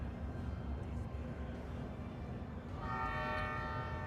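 Train machinery starting up in the video game Rogue Trader, a low rumbling mechanical drone that swells into a sustained horn-like tonal whine near the end, moderately quiet and steady.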